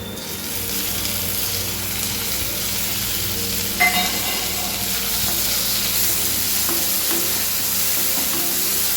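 Chopped tomatoes hit a pan of browned onions and sizzle loudly and steadily while being stirred, with a brief scrape of the spoon partway through.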